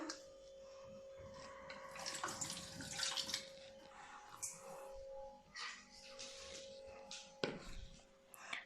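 Water being collected in a kitchen to brush onto a cake board in place of edible glue, running and splashing softly with some knocks and clatter, close and quiet.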